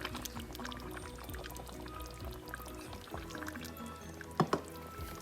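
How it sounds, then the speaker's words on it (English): Coconut milk, one cup, pours into a pan of fully cooked chicken curry, a steady liquid pour with soft drips and gurgles, ending with two sharp clatters near the close. "now we are going to add the twist I talked about, which is 1 cup of coconut milk"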